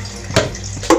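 Water is poured over a burnt cooking pot to rinse it, a steady close splashing flow with two sharper gushes about half a second apart.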